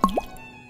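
Water spills from a pan in a single quick, wet plop, close and fairly loud, then fades into quiet.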